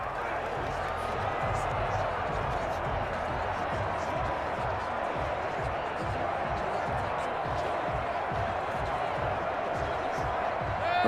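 Steady roar of a simulated stadium crowd at a Madden 21 NFL game between the Cleveland Browns and New York Jets, a dense continuous wash of cheering with faint clap-like ticks, loud and unbroken throughout.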